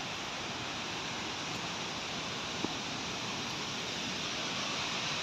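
The Manche Guru waterfall in the Nepali hills roars with a dense, constant broadband rush of falling water, loud and unbroken throughout, with no voices.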